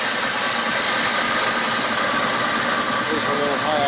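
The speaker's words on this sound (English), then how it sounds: "There's a little high idle." An AMC 401 V8 in a 1968 AMX idles a little high, a steady close rumble and whir that holds level throughout, with no talk over it.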